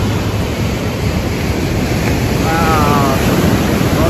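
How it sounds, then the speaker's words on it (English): Strong ocean surf at a beach with waist-deep water, a steady loud broadband wash of breaking waves and wind rumble filling the whole stretch without a break. "Well, the waves are kind of strong today."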